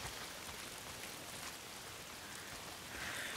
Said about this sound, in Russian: Почему с неба все время льет?